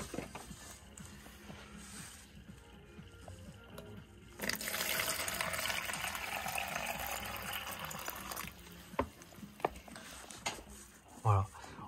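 Water poured into the ground-coffee chute of a Jura coffee machine, a steady splashing rush that starts partway through and runs several seconds before trailing into clinks and knocks, with a voice speaking at moments.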